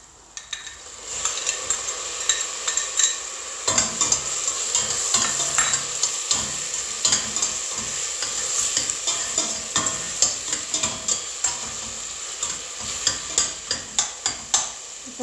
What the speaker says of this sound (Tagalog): ilalagay na natin yung kamatis